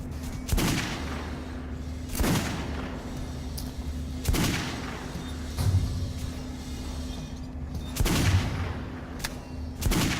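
Shotgun blasts from the video game Metro Last Light on a shooting range, about six heavy shots at uneven intervals of one to two seconds, each booming and then decaying over a low steady background hum.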